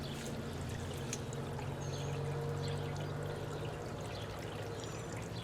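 Water draining out during a backwash of a pool filter in cold conditions, a steady continuous pouring rush with a low rumbling undertone that holds even and fairly loud throughout, with no talking.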